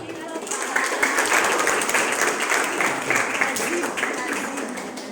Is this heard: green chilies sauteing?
no